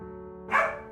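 At an animal rescue shelter holding dogs saved from euthanasia, a sharp bark rises over a steady background of tonal noise, close and fairly loud, one short burst.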